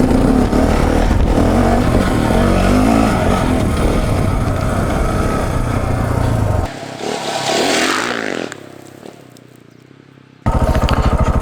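A KTM 690 Enduro single-cylinder motorcycle running loud and close with rough revving and clatter, then the sound drops away almost to silence before the engine bursts back in at the end.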